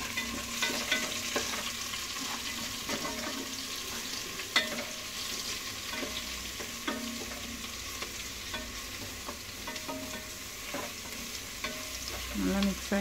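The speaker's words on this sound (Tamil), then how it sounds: "இப்போ அரைச்சி வச்சிருக்கிற சோம்பு பூண்டு மிக்ஸ் பண்ணிக்கலாம்." Onions stir-fried with a ground fennel and garlic paste in a pan, a continuous sizzle broken by rhythmic spatula scrapes and stirring strokes, close up with no talking.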